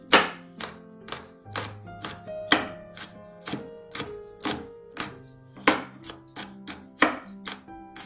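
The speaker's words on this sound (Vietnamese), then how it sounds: "Và đây là hai trái ớt, mình cũng sẽ băm nhuyễn ra luôn." Rapid, regular knife chops mince chili peppers on a cutting board, a steady series of sharp thuds with a few brief pauses, close by and with no talking.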